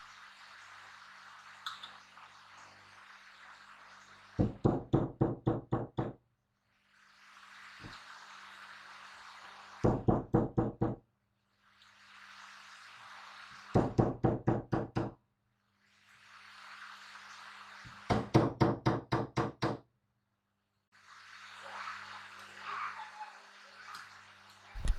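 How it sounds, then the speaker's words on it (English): A wide-faced punch taps a new fork seal into a KTM RC390 fork tube in bursts of rapid, evenly spaced metallic knocks, four or five quick strikes per burst, close and crisp, with quiet hissy gaps between. "take a wide-faced punch and lightly tap the seal home"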